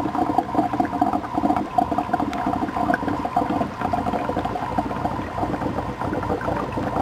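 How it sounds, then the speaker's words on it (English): An air pump bubbling water in a RootSpa makes a steady, busy gurgle of bursting bubbles over a low mechanical hum, continuous and close. "and turning on the air pump. As you can hear, it's starting to make major bubbles right now."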